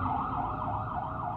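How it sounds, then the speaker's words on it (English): An ambulance siren wails steadily with a rising and falling tone as it passes on the road nearby, loud and continuous with no break. "there goes an ambulance by me"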